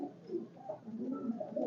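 Pigeons coo softly in a series of low, rounded calls that follow one another closely at close range, with no voices.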